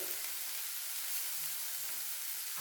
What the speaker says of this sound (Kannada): ನೋಡಿರಿ ಟೊಮೆಟೊ ಈ ರೀತಿಯಾಗಿ ಫ್ರೈ ಆಗಬೇಕು